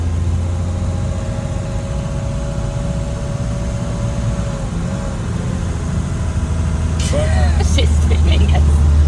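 An old manual-transmission car, recently swapped to a five-speed gearbox, drives in second gear with a steady low engine drone and road rumble, close and constant, while a faint whine rises briefly and a brief voice sounds near the end.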